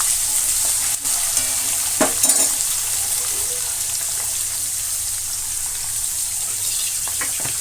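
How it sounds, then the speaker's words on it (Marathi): Chopped onion sizzles steadily in hot oil in a pan as a soya bean pulao is cooked, with a few clinking scrapes of a spoon stirring it and no talk. "आता आपल्याला याच्यामध्ये कांदा घालायचा आहे। हे पहा, तर आपल्याला हा कांदा परतून घ्यायचा आहे।"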